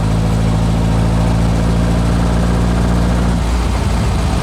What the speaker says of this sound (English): there's 20 miles an hour at third gear, and I'm just gradually pushing on the gas